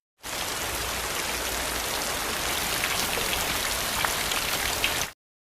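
Heavy rain pours steadily outside a cabin in a horror film, a dense, even hiss of downpour that holds unbroken for about five seconds with no voices.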